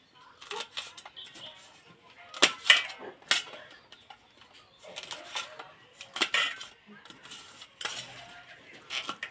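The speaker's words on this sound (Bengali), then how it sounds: "লঙ্কাগুলো অল্প অল্প করে নেব, নিয়ে 2 টুকরো করে দেবো" A knife chops green chillies into pieces on a board, sharp irregular taps and clicks spaced a second or so apart, close and fairly quiet, with a few brief utensil clinks.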